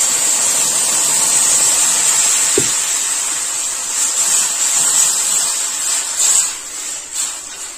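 Water is poured into roasted semolina in a hot pan, producing a steady, loud sizzling hiss that fills the whole stretch with only small changes in level.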